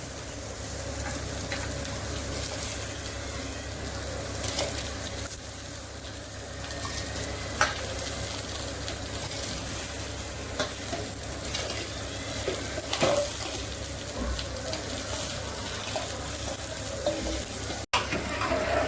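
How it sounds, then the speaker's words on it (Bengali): Rice parboiling in boiling water for jackfruit biryani, a continuous bubbling, sizzling wash heard up close for the whole stretch with occasional faint clinks of a pot. "চালটা 4 ভাগের 1 ভাগ সিদ্ধ করে নেব"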